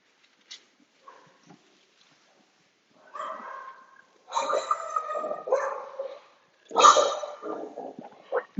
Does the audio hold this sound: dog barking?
yes